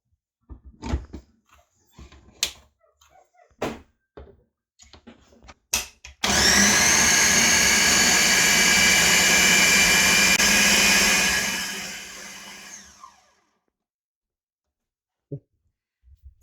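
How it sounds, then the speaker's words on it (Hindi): A blender whirs loudly and steadily for about six seconds, blending a strawberry banana smoothie made with whole milk, then winds down to silence after brief handling clatter beforehand. "अब मैं इसको स्मूदी को ब्लेंड करूंगी।"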